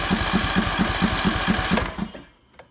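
A Briggs & Stratton 15.5 engine cranks over steadily with a rhythmic chuffing, pumping compression pulses at close range, then slows and stops near the end.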